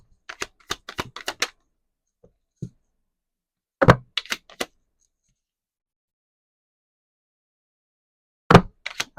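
Tarot cards being pulled from a deck: sharp, dry clicks and snaps of card stock in quick clusters at the start, middle and end, close and fairly quiet, with near silence between.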